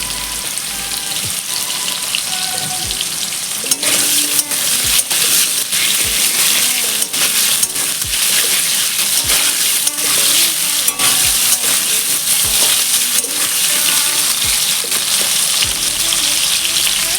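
Potato pieces sizzle and fry steadily in hot oil in a pan, cooked for a jackfruit and prawn curry, giving a loud continuous crackle close by with occasional soft knocks and no talking.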